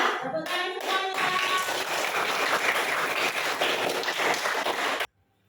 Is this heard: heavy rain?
no